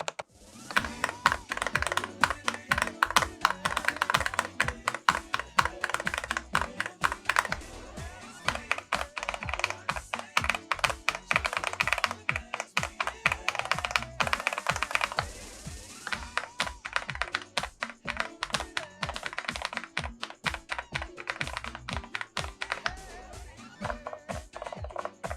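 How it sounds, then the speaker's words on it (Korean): Dareu A104 Pro mechanical keyboard switches clacking rapidly and loudly during rhythm game play, dense bursts of keystrokes with brief pauses, no talking. "지금부터 각 축들의 소음 차이를 느껴볼 수 있도록 실제 리듬게임 플레이 영상을 보여드릴게요"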